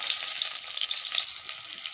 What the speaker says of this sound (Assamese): কেৰাহী গৰম হৈ গৈছেগৈ পিঁয়াজ দি দিছোঁ